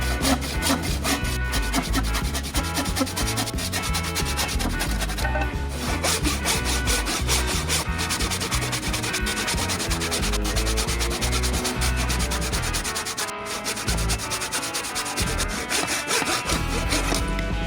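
Wooden rafter feet being cut at a 45-degree angle with a jig, giving continuous loud, rasping saw strokes at close range throughout, with no talking.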